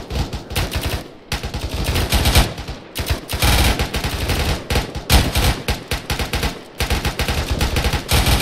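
Sustained bursts of automatic and rifle gunfire in an Arma 3 military training exercise on Altis, loud and close, with rapid rattling volleys broken by brief pauses.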